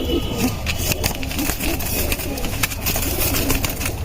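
Silver pigeons coo faintly in a home loft, their soft calls half buried in a steady noisy background with a low engine-like hum running throughout.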